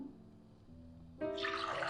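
About three cups of water are poured into a pot of chana dal for boiling, a soft splashing rush that starts abruptly after a quiet moment and stays faint.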